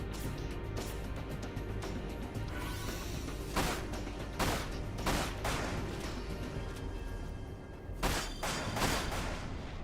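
Gunfire in the video game Dirge of Cerberus: Final Fantasy VII: sharp, loud shots crack out in irregular bursts over a busy, noisy game soundtrack.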